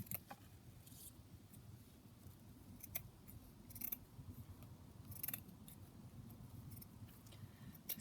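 Scissors trimming a piece of hessian fabric at a craft table, a few faint, sparse snips spaced apart against quiet room background, no talking.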